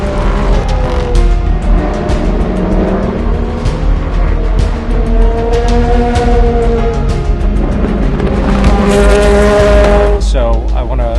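A pack of endurance race cars roars away at the start of a European Le Mans Series race at Le Castellet, loud layered engine noise with rising and falling pitches as cars pass, and someone talks over it.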